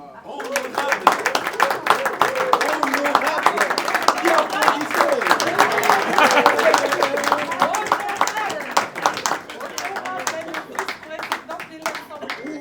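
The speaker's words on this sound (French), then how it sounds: "on va applaudir très fort Kabaya Kalassa Archimir" A crowd claps for a graduate at a July 2025 graduation ceremony, sustained applause with individual sharp claps, while voices and cheering carry over it throughout.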